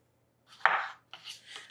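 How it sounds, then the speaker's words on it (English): A knife cuts strawberries into smaller pieces in a bowl, two quiet, close crunching cuts with short soft scrapes. "cut them into a couple smaller pieces"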